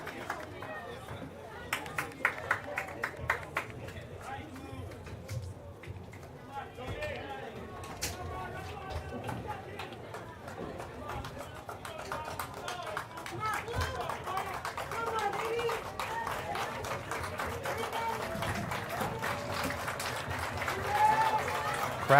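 A high school baseball crowd at the NSCHSAA finals between Kellenberg and Chaminade applauds and cheers on its feet. The steady clapping and crowd noise swell toward the end, with voices mixed in.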